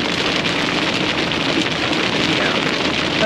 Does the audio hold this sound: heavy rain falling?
yes